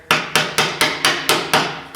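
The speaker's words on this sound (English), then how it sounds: "I got to get something to pound on that lock ring to turn it all the way" Seven sharp metallic hammer strikes on a screwdriver, driving the fuel tank sender lock ring on a 1980 Chevy Silverado, evenly spaced, close and loud, each ringing briefly before the next.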